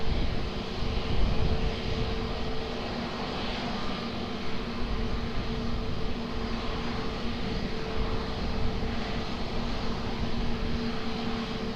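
A Portugal airliner taking off from runway 20 at Lisbon Airport, a broad steady engine roar that holds at a constant level throughout, heard from a distance with no voices.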